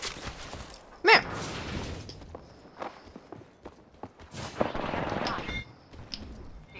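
Gunfire in the battle royale shooter Apex Legends: a sharp close shot burst, then scattered shots, footsteps and game effects, with a busier cluster of firing later and a faint background hum.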